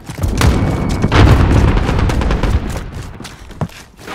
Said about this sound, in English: they're literally shooting through walls